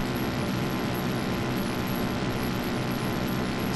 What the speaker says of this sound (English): This sounds like a damn World War One plane